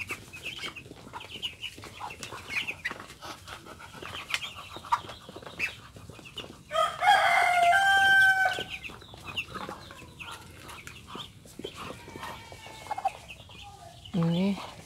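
Muscovy ducks feeding eagerly in a simple backyard pen, with scattered soft pecking and shuffling sounds, a loud burst of squawking calls around the middle, and a brief call near the end.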